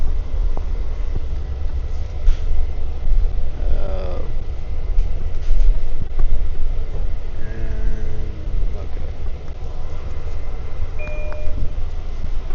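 A Long Island Rail Road train bound for Port Jefferson rolls along with a steady low rumble and rattle, a faint squeal rising briefly and a short electronic tone near the end, heard from inside the car.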